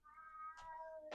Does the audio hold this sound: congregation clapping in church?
no